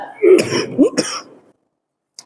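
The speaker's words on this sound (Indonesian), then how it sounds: "Saya maaf lagi agak batuk-batuk." During an Islamic study talk, a person nearby clears their throat and coughs a couple of times, loud and close, then silence with a faint click at the end.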